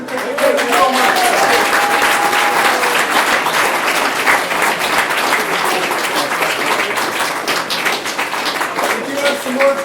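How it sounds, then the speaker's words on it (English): Loud, sustained applause from an evening speaker-series audience after a presentation on the Ice Man from British Columbia, dense clapping filling the whole stretch with a few faint voices mixed in. "Let's do one more round of applause."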